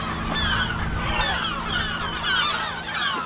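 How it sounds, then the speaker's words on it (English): A flock of seagulls cries and squawks continuously overhead on an abandoned Scottish island, their overlapping calls near and loud above a low wind rumble. "seagulls."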